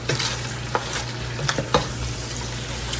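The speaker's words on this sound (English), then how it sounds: "we're going to just let our cabbage cook for several minutes" Cabbage sizzling in a pan while being stirred, a steady close frying hiss with several sharp scraping clicks of the utensil scattered through it.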